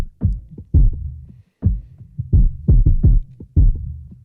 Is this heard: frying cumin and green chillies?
no